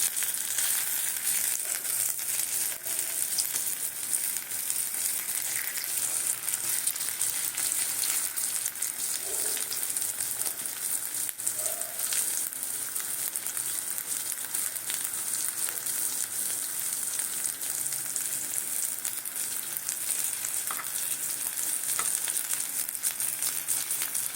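Greens (gime shak) fry in a thin film of oil in a pan, giving a steady, loud, continuous sizzle with faint crackles throughout, no voices.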